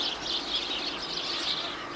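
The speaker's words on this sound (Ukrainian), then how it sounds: "годівницею зацікавились синиці великі" Great tits call at a snowy winter bird feeder in Kyiv, a steady string of thin, high chirps and tweets carrying on through the whole stretch at moderate volume against quiet outdoor background.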